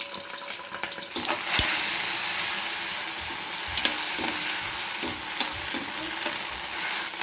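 Steady sizzling of garlic paste and cumin frying in hot oil, with scraping and tapping of a spoon stirring the pan at intervals, close up.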